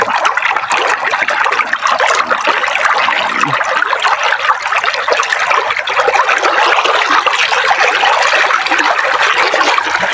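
A weak, low-pressure stream of water trickles from a pipe on a village farm, a continuous close splashing dribble that runs steadily for about ten seconds with no talking.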